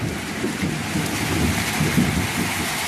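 Rain falling steadily in a Marathi village, a dense close wash of drops and hiss with low rumbling underneath, continuous and fairly loud with no voices.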